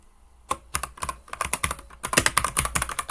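Keys clatter on a computer keyboard while a search is typed in Roblox: a hesitant first tap, then quick uneven bursts of clicks, close and crisp with no talking.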